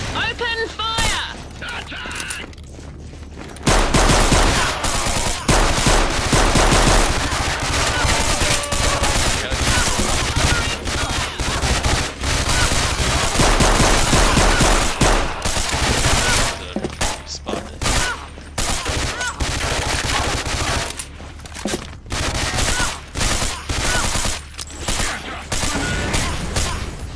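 Sustained, loud machine-gun fire in the shooter game Killzone, with near-continuous rapid bursts rattling on for over twenty seconds amid other game effects, after a brief quieter lead-in.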